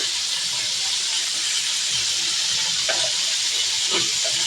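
Ginger-garlic paste hits a hot pan with a broad, even hiss of sizzling that holds steady throughout, with a couple of faint clicks.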